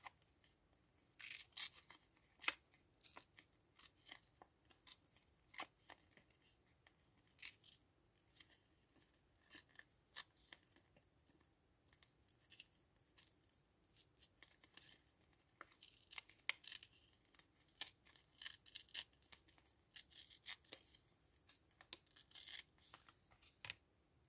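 Faint, quick snips and crisp rustles of paper being cut along a traced line for a junk journal tag, irregular bursts scattered throughout in a quiet room.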